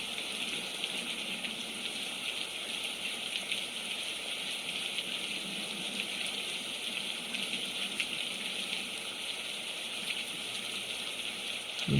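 Heavy rain falls steadily on a very rainy day, a continuous dense hiss with scattered dripping water, unbroken and even in loudness throughout.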